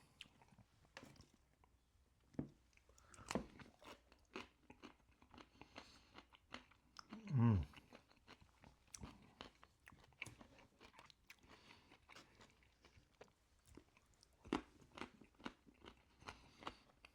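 Close-up chewing of crunchy food such as pork cracklin, carrots and apple, with repeated sharp crunches and bites, one especially loud crackling bite midway, between quieter mouth sounds.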